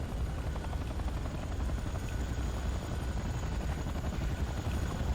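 Evacuation helicopter in the video game Command & Conquer Renegade, a steady loud rotor drone with rhythmic chopping that holds unbroken throughout, with no talk over it.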